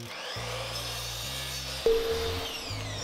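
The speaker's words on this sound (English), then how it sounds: "Here I'm just cutting little angles on each of the 4 corners of the seat." Power saw cutting small angles off each of the four corners of a wooden seat, a steady whirring cut running throughout with a sharp tonal whine entering near the end.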